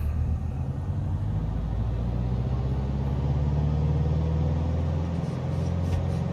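Airliner taxiing at Princess Juliana Airport in a VR flight simulator game, a steady low engine rumble and hum with a faint rising whine, constant and close, with no talking over it.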